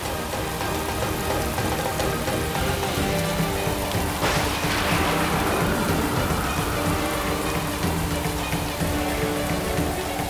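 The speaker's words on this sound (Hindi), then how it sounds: "बारिश शुरू होगी" Heavy rain pours steadily and loudly throughout, a dense continuous roar of drops with no voices.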